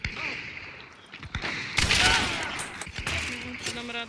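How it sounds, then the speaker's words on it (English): Gunfire in the video game Hunt: Showdown, with a burst of rapid shots over ongoing game noise and faint voices of players. "He's shooting, Mako."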